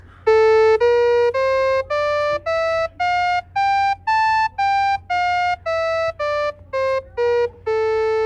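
Clear synthesized tones stepping through a musical scale in Phrygian mode, about fifteen separate notes rising then falling, each short and evenly spaced, loud and clean with no voices.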